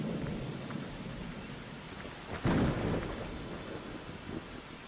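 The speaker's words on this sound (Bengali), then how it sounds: "বর্ষা এলো, আকাশ ভরা মেঘ, চারপাশে বৃষ্টি ঝরছে" Steady rain falls through a monsoon storm with a low rumble of thunder building midway, a broad wash of noise that swells briefly and then settles back, with no voices present.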